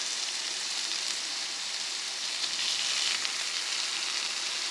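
Ground beef browning in a hot pan, a steady, dense sizzle and crackle of frying meat that holds close and even throughout with no talk.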